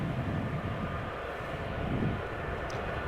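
At Amsterdam Schiphol an airplane passes by quietly. Its engines give a steady, broad, even roar that stays at a constant moderate level without a sharp peak, and nobody speaks.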